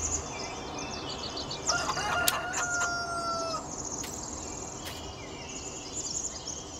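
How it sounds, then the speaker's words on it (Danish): Farmyard hens and a rooster in Farming Simulator 19: a crowing rooster rises over steady clucking, with a faint bed of insect and cricket chirring throughout and no talking. "Så har vi nogle høns"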